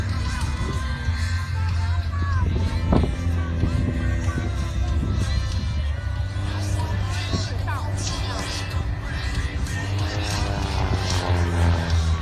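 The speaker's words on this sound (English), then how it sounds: "They're going to fly another series of loops and rolls." Propeller-driven airplanes, including biplanes and WW2-era aircraft, fly loops and rolls at an air show in Grande Prairie, Alberta, their engines droning steadily and loud throughout over a crowd, with a commentator talking on the public address.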